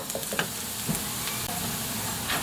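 Butter sizzling and frying in a pan with softened, translucent onions while shrimp is being cooked, a steady close crackling hiss with a few light stirring clicks and no talk.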